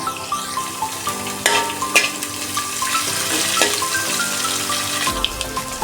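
Green chillies, curry leaves and shallots sizzle loudly in a pan for a moru curry, with a steady crackling fry, spoon clatters and scrapes, and a brief rush of running water near the end.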